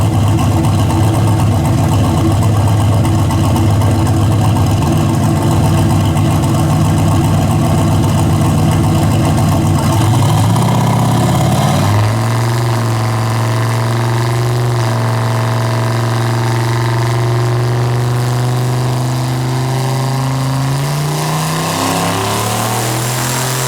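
A 1963 Chevy Nova clone with a 700 whp engine idles loudly and steadily, with a deep rumbling lope that shifts and climbs briefly in pitch partway through, then settles back.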